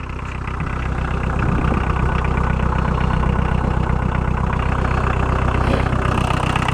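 A 1.6-litre VW diesel caravan engine idles steadily and close by, a continuous low rumble with an even beat, rising slightly in level at the start and then holding constant throughout.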